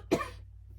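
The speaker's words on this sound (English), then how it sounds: "I'm coughing" A single sharp cough bursts out close to the mic, followed by a fading rasp of breath and then quiet.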